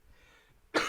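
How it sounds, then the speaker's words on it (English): A single sharp cough bursts out at the very end from a man who is still sick, loud and close after near-silence. "Excuse my coughing."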